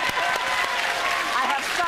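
A television studio audience applauds with dense clapping mixed with voices, loud and close throughout the short moment.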